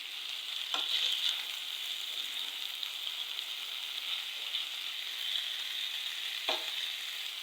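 Egg and potato dal frying in a pan over medium-low heat gives a steady, close sizzle, with two brief stirring scrapes near the start and the end.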